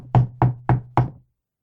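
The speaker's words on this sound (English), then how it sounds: "A knocking on the door interrupted further interchanges on the peculiarities of royalty" Four firm knocks on a door panel in a steady, evenly spaced rhythm, close and loud, then silence.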